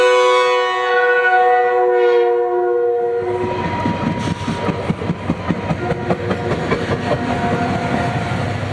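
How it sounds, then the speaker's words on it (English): A southbound commuter train departs Ogden Central Station for Provo with locomotive 119 leading. A long horn blast sounds first, then the loud rhythmic clatter of wheels and cars rolling past nearby. "a southbound Farmer departs Ogden Central Station bound for Provo with 119 leading"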